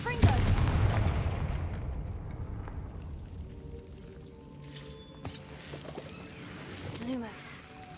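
A Confringo fire spell in Hogwarts Legacy opens with a heavy, booming blast that rolls away over a few seconds, followed by quieter game sounds and a voice talking.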